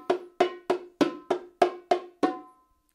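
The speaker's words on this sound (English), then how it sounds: "So, you can start with the bongos." Bongos struck in a simple four-beat counting pattern mixing open palm strokes and sharp rim strokes; eight evenly spaced, ringing hits at a moderate tempo, close and clear with no talking.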